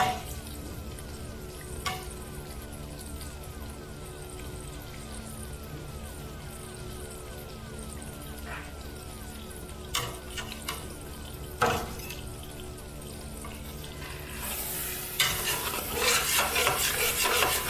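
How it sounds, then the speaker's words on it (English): Pork fat sizzles and crackles steadily in a hot pan, with occasional scrapes and clinks of a utensil against the metal and louder spattering near the end. "That's the sound of some pork fat frying in the pan bottom."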